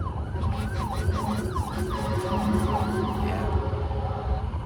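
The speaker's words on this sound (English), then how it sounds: "Ambulance passing by." An ambulance siren wails in repeating rising-falling sweeps as it passes by on the road, loud and fairly close over traffic rumble, fading slightly toward the end.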